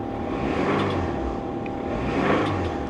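A 1993 Nissan Maxima engine with a rod knock idles and revs steadily at close range, with a continuous rumbling drone; no distinct knocking stands out clearly.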